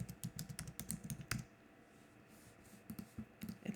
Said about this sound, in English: I typed happy birthday.